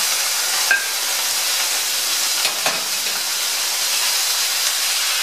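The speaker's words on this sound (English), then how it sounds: "I just sliced up a nice sized sirloin steak. So I'm going to dump that in here, and I'm going to stir fry it until it's cooked" Sliced sirloin steak stir-fries in a hot pan, giving a steady bright hiss with a few brief scraping stirs, close and fairly loud with no talking.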